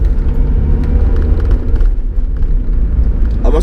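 Mazda MX-5 sports car driven hard through a corner, a loud, steady low engine and road rumble heard from inside the cabin, with no talking.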